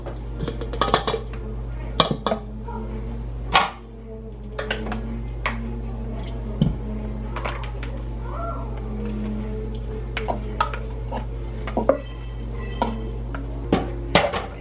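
A food-processor mixture is tipped into a bowl, heard as scattered clinks, taps and scrapes of utensils against dishes over a steady low kitchen hum, with a faint cat meow in the middle.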